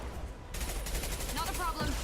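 Bursts of gunfire from the video game Mass Effect, loud rapid shots crackling over continuous game noise, with a voice talking over part of it.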